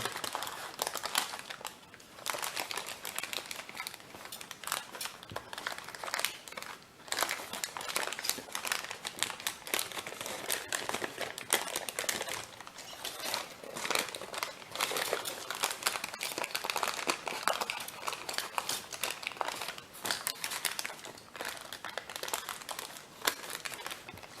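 Paper is folded and creased repeatedly for an origami dobsonfly, a continuous crinkling and crackling close by that runs steadily throughout with brief rustling pauses.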